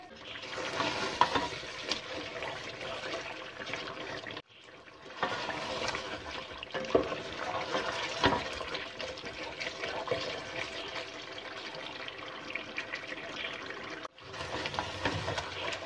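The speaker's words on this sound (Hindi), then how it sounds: "अब इसको चिकन को अच्छा सा इन मसालों के साथ भून लेंगे।" Chicken pieces sizzling as they fry with spice masala for Mughlai chicken, a continuous close crackle with scraping stirs and brief pauses, no talk.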